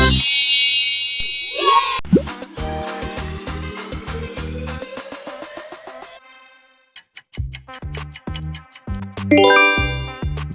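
Skittles logo jingle: bright chiming dings and tinkling tones over punchy rhythmic hits, with a quick sweeping flourish, a brief pause and then a renewed burst of bell-like notes.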